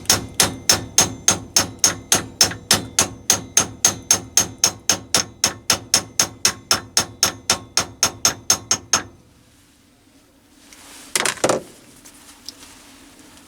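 Steady, rapid hammer blows on a metal rod end against an anvil, around thirty sharp strikes in an even rhythm, then a pause and one brief clattering knock.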